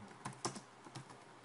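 Someone types a short command on a computer keyboard, a quick run of soft, close key taps over faint background hiss.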